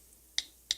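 An iPhone touchscreen keyboard gives two crisp, sharp tap clicks in quick succession, close and fairly loud against near silence.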